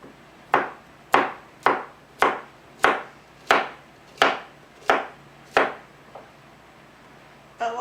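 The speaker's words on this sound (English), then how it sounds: "I'm just going to slice it in like quarter slices, just about that thick." A knife slices summer squash on a cutting board in about nine crisp, evenly spaced chops, followed by one softer cut, all close and fairly quiet with no talking.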